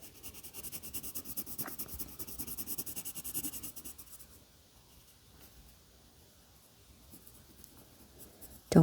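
A blue colored pencil scratches steadily across paper while stripes on a flip-flop drawing are filled in, a close, soft rhythmic scribble that is busier early on and fades to quieter strokes, no talk.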